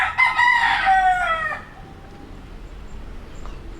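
Bantam hens and roosters in a backyard farm: a close, loud rooster crow opens, then fades into faint scattered clucks and quiet farmyard ambience.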